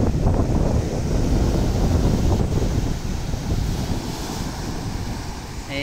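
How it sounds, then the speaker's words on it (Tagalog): Strong afternoon ocean waves break and roll continuously near the shore, a loud, dense roar mixed with wind buffeting the microphone, easing slightly toward the end, with no one speaking. "Medyo malakas yung alon ngayong hapon guys."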